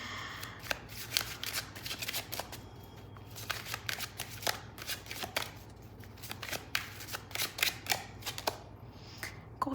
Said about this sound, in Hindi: यहाँ पर थोड़े और कार्ड्स लूँगी मैं